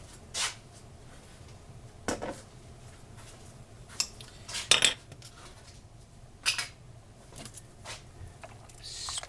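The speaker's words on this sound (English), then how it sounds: "Stir that up." Utensil stirring vegetable beef soup in a pot, giving scattered clinks and scrapes against the metal, a handful of sharp knocks spread out over a quiet stretch with no talking.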